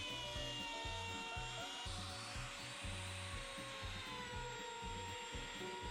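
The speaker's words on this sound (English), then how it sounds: "Using a round over bit in my palm router, I round over all the edges" A palm router with a round-over bit whines at a high, steady pitch while rounding over wooden edges, with a rhythmic low chugging underneath, continuous and close.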